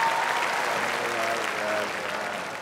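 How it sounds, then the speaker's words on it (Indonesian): Sustained applause from a studio audience at a televised talk-show stand-up comedy segment featuring West Java gubernatorial candidates, a steady dense wash of clapping that holds throughout and eases slightly at the end. "Sekali lagi tepuk tangan dong untuk keempatnya."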